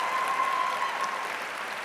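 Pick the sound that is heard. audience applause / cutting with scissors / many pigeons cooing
audience applause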